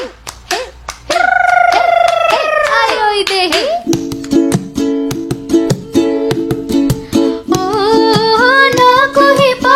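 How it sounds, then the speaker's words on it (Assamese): Steady rhythmic hand claps keep time alongside a female Bihu duet, with the sharp claps sitting under the sung melody throughout. "বলকচোন একেলগে হাত চাপৰি বজাও"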